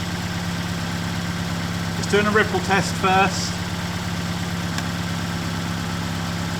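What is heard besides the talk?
car engine running during battery charging test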